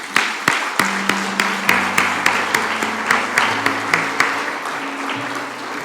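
Church congregation applauding, with sharp, regularly spaced loud claps over a steady bed of clapping and a sustained musical tone underneath.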